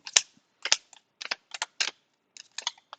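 Satin-matte tarot cards riffle and snap in quick crisp bursts, a few rapid flutters separated by short silences, close and clear.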